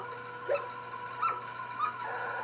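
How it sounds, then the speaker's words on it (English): A collie in a TV episode gives three short, high whimpers and yips at even intervals over a steady electronic hum, fairly faint and with no voices. "That dog."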